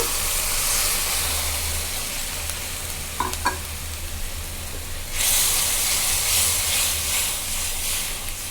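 Loud steady sizzle and hiss from a pan of turmeric, chili powder and salt paste, with a couple of utensil clicks, then a sudden surge of hissing steam as water hits the hot paste.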